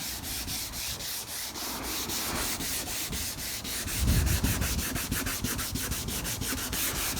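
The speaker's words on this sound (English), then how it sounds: "Now I'm sanding the crap out of it because it's deep." Steady rhythmic rubbing of 600-grit sandpaper over a hard plastic part, quick repeated strokes close up, growing a bit heavier partway through.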